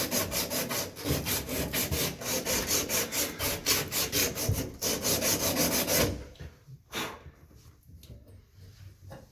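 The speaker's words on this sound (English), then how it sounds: "clean up that part and then sand it down. Make sure you get the bottom." Sandpaper is rubbed back and forth over a cut copper pipe end to clean off the burr during a tub spout replacement, in fast, rhythmic, close strokes that stop abruptly, leaving a few faint scrapes.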